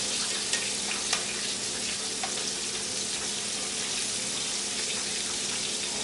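Chicken pieces for sweet and sour chicken fry in hot oil with a dense, even sizzle and crackle that runs unbroken throughout, with occasional small pops.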